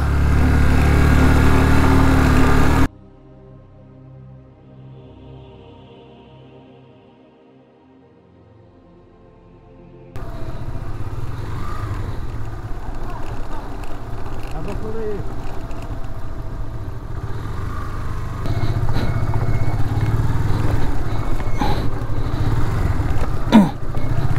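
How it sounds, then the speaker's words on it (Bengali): A motorcycle engine runs at steady low revs, rumbling as it engine-brakes down a steep, challenging slope, after a brief quieter stretch at the start. "এসব জায়গায় ইঞ্জিন ব্রেক করে নামাই ভালো"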